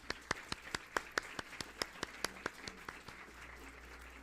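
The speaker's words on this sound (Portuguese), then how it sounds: "para quem eu peço uma salva de palmas" Scattered clapping for Dr. Kátia Balbino at a judicial swearing-in ceremony, distinct individual claps in a fairly regular rhythm that thin out toward the end, quiet and somewhat distant.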